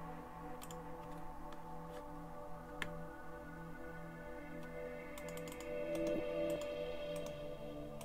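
Typing on a computer keyboard, with scattered key clicks and a few sharper presses like the enter key, all faint and close over a steady electronic hum with tonal lines, and no speech.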